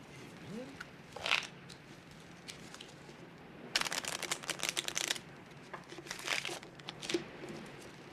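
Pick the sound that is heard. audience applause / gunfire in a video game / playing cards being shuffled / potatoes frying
playing cards being shuffled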